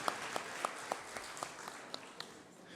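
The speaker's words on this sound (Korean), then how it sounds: "박수 부탁드립니다" Scattered, thinning applause from a church congregation during a Sunday worship service, a few dozen claps fading out over a couple of seconds in a reverberant hall.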